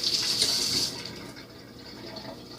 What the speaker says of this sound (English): make sure that you wash your potatoes really good